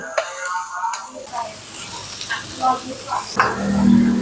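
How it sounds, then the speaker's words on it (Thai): Ratatouille vegetables sizzle softly as they are stir-fried in a pan, with light scraping and stirring clatter. A voice speaks intermittently over the cooking. "ผัดให้สุกนะครับ"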